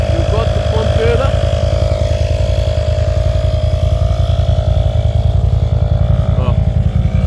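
An ATV engine runs steadily and loudly throughout, a continuous close motor drone with a rider talking over it.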